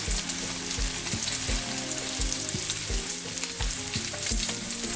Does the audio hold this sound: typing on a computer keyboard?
no